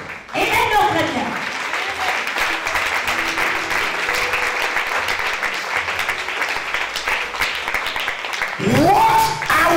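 A church congregation bursts into sustained applause and cheering, a dense, loud wash of clapping lasting several seconds, with voices rising over it at the start and close.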